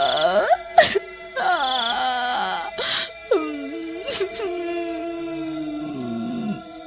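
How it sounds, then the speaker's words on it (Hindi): A drawn-out wailing, moaning cry rings out in a jungle at midnight, rising and bending in long, eerie tones with a few sharp breathy bursts, a mournful howl-like sound effect that carries steadily for several seconds. "आधी रात होने पर जंगल से किसी के रोने की आवाज"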